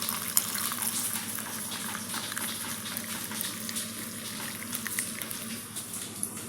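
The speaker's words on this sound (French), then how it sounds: "je remplis avec mon liquide, donc mon mélange de vinaigre et d'eau" A vinegar and water mixture poured into a jar packed with courgettes, a steady continuous liquid splash and trickle lasting several seconds, close and moderately loud with no talking.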